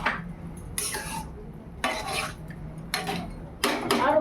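A spoon stirs mutton pulao in a pot after garam masala, kewra water and rose water are added, producing four separate bursts of scraping and clinking against the metal, with quiet pauses between them.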